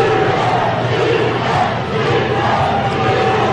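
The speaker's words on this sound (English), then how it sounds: "The Warrior crowd getting loud." A crowd at a 2023 MSHSAA Show Me Bowl Class 2 high school football championship game between Lamar and Valle Catholic roars and cheers loudly and continuously, a dense, sustained wall of many voices.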